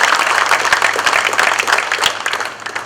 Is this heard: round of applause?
yes